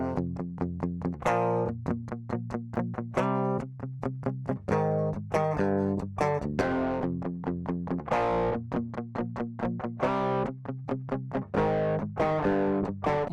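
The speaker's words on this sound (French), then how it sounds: "En premier, vous avez l'overdrive qui correspond plus à de la saturation que de la distorsion." A guitar-like melodic line played through Ableton's Pedal effect in overdrive mode, a warm saturation rather than harsh distortion, with steady plucked notes in a continuous rhythmic phrase, alone and fairly loud.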